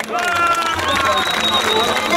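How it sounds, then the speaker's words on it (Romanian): A live comedy audience breaks into continuous, dense applause at close range, steady and loud throughout, with a voice carrying over the clapping. "Hai să aplaudăm"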